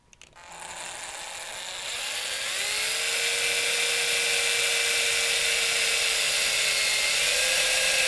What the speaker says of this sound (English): I like to hold my headstock like this and drill just like this.